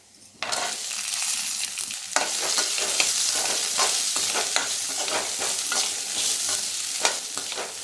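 Coriander and onion fry in oil for a cauliflower gravy, a loud, steady sizzle with frequent scraping stirs throughout, close by and without talk.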